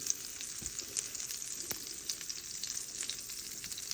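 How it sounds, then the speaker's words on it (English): Garlic sizzles in a hot pan with a steady, bright crackle. The frying is close and continuous, with a few small pops over the hiss and no voices. "Let that sizzle just for a second."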